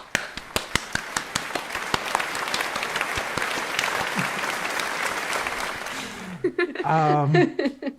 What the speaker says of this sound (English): Good job, everyone. Round of applause.